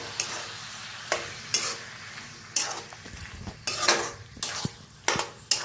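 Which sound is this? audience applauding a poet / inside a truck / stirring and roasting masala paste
stirring and roasting masala paste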